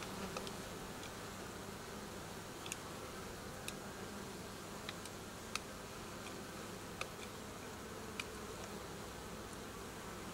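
Honeybees being fed pollen give a soft, steady insect hum that carries through the whole stretch without a break. Brief clicks and ticks are scattered through it at a low, even level, and nobody speaks.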